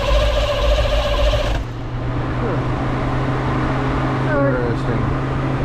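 A car engine cranks with its ignition coil unplugged while a misfire or dead cylinder is being traced: a steady, loud starter whir with a droning hum, and voices talk over it.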